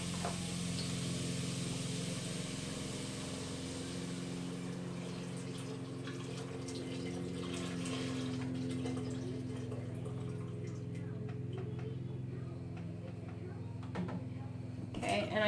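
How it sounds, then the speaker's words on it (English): Broth is poured into a cooking pot of squash on a stove, giving a steady watery splashing under a low background hum for most of the stretch. "So I am going to pour in my liquid."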